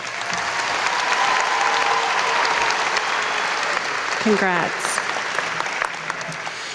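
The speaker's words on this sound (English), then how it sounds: "Please stand so we can applaud your accomplishments." Sustained applause from a crowd at a high school graduation ceremony honoring students, a steady dense wash of clapping throughout, with a voice briefly speaking over it.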